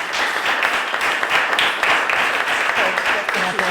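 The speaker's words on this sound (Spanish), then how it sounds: "Un aplauso" An audience applauds for Cristina at a live presentation on mindfulness-based therapies, steady dense clapping sustained through the whole stretch with a faint voice underneath.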